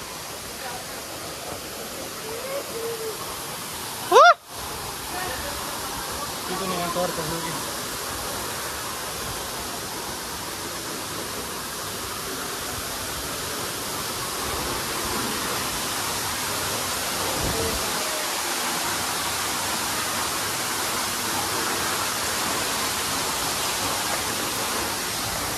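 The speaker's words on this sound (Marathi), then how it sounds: "हे बघा हे वॉटरफॉलचं पाणी।" Water pouring down a small waterfall at Bhandardara where people bathe below, a steady broadband rush that continues through the clip with a brief sharp knock near the start and faint voices in the background.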